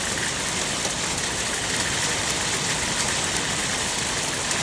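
A hail storm beats on a neighbour's porch as a dense, constant patter, loud and unbroken, with a steady low rumble underneath and no voices.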